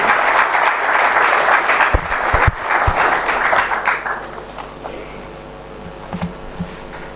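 A church congregation gathered for the archbishop claps loudly, dense applause that holds for about four seconds and then thins into scattered claps and fades.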